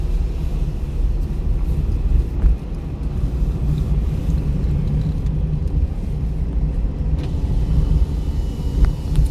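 A car engine hums and rumbles steadily from inside the vehicle during a driving lesson, a constant low drone with no talk.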